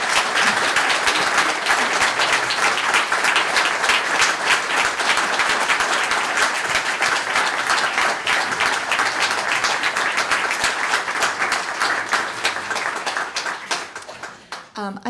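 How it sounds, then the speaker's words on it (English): Sustained, dense applause from a literary festival audience honouring two readers, loud and even for most of its length before tapering off near the end. "maybe we should have a round of applause for both readers"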